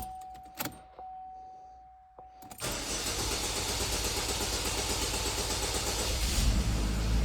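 Keys jingle and a dash chime sounds before a 2010-2017 Chevy Equinox 2.4 L with a high-pressure fuel pump fault cranks, fires and settles into a loud, steady running hum close by.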